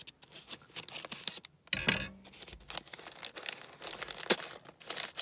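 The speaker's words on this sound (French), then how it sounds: "Alors, je vais enlever le scotch. Enfin, me battre avec le scotch." Adhesive tape pulled and torn off a parcel of mail, heard as close crinkling and ripping with one sharp tearing burst and rustling after it, and no voice.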